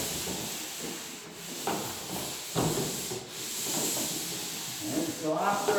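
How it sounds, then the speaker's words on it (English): A sander works a surface in a high area, producing a continuous close abrasive rubbing hiss that swells and eases as strokes change direction. "after I sand one angle, I like to go back over the other side"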